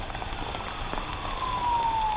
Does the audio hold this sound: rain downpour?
yes